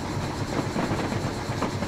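A train in a train simulator video game runs along the rails with a steady rumble and faint clickety-clack of wheels, continuous and unbroken.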